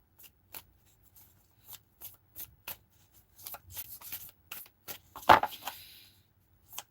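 Tarot cards being shuffled by hand in a quiet room, short riffling and tapping bursts scattered across the stretch, with one louder flurry near the end; no one speaks.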